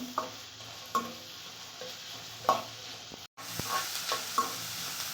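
Onion, garlic, carrot and beans stir-frying in a pan for veg fried rice, a steady sizzle broken by a few sharp spatula scrapes and clinks, close and moderately loud, with a brief dropout midway.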